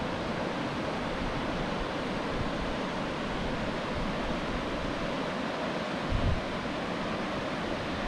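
A cascading waterfall pours down behind trees near the old Tumut mill swimming hole, a steady broad rushing roar with wind buffeting the microphone.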